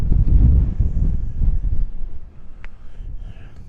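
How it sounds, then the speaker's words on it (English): Wind gusts across a high ridge on Buachaille Etive Mòr in Glencoe, a rough low rumble buffeting the microphone, strongest at first and then easing slightly, with a brief faint click near the end. "the wind's picked up quite a bit on this ridge now"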